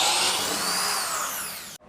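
Wood router fitted with a bearing-tipped bit cutting through a wooden jig, a loud, steady high-pitched whine with gliding tones that winds down and cuts off abruptly near the end.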